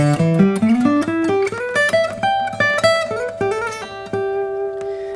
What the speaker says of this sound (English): If we were to play the major pentatonic,